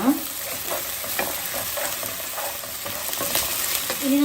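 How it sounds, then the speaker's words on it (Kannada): Onions with ginger garlic paste frying in a pan for a baji side dish, a continuous low sizzle broken by soft scraping stirs, no voices. "ಜಿಂಜರ್ ಗಾರ್ಲಿಕ್ ಪೇಸ್ಟನ್ನು ಹಾಕೋಣ ಫ್ರೈ ಮಾಡೋಣ"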